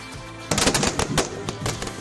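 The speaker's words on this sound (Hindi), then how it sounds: "अंधेरा होने से पहले ही आतिशबाजी हो रही है।" Fireworks go off at a street celebration of the 2022 presidential election win before dark, a sudden burst of rapid crackling pops and bangs, loud and dense, over steady outdoor background noise.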